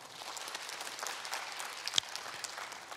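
Lecture audience at a talk on happy married life clapping together: a soft, steady patter of many hands from a distance, fairly faint, with one sharper clap standing out midway.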